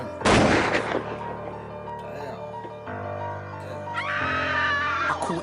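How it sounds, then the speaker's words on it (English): Gunshot-like blasts in a grime music track: a loud burst of sharp, explosive cracks at the start, followed by thinner echoing shots and tonal music, with another dense burst near the end. "Gunshots."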